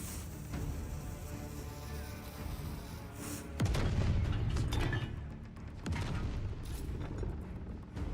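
Ship cannon fire in a pirate video game set in a ship graveyard: heavy booming blasts and rumbling impacts break over a dense, continuous bed of game sound, with one big burst partway through and another later.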